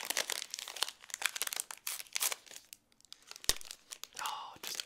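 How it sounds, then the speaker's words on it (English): Crinkling, tearing plastic wrap peeled off a new smartphone, close and in uneven bursts of rustle with brief pauses, ending in a smoother crinkly swish. "My favorite part of the day slash any day is of course unwrapping the plastic."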